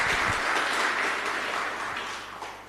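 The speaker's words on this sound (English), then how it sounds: "let's give a round of applause to these presentations." Round of applause from an audience at an academic session on food and nutrition security, a broad, steady clapping that stays fairly loud and eases slightly as it goes on.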